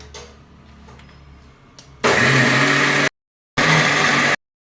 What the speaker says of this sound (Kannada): ಮಿಕ್ಸಿ ಜಾರಿಗೆ ಹಾಕಿ ರುಬ್ಕೋಬೇಕು.